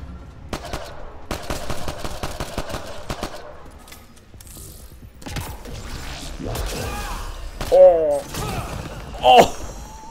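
Gunfire bursts and a grenade blast in the sci-fi shooter Mass Effect: Andromeda, with rapid clustered shots early on, then scattered hits and louder booms near the end, mixed with game effects.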